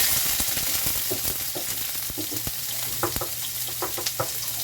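Bitter gourd (ampalaya) frying in a pan gives a steady hiss of sizzling oil, punctuated by clinking, scraping strokes of a utensil stirring the slices, close and moderately loud with no talking.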